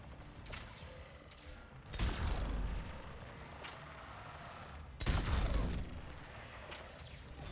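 Gunfire in the video game Mass Effect 3: two loud, booming shot bursts about three seconds apart, each trailing off into a mechanical rumble, with fainter clicks and clatter between them.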